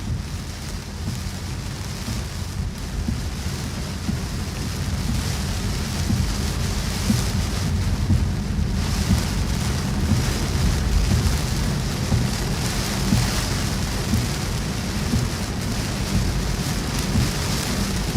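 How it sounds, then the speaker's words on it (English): Heavy rain pours down during a wet microburst in a severe thunderstorm over Upstate South Carolina, a dense, loud, continuous roar of rainfall with rumbling thunder rolling underneath for the whole stretch. "Heavy rain coming into the rain shaft here."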